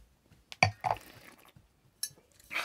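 A small sample of wine is poured into a glass: faint liquid trickles and light glass clinks come in short, quiet bursts, close by.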